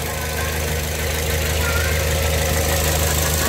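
A 2012 Toyota Vios sedan engine runs steadily at idle, a constant low mechanical drone heard close with no talking over it.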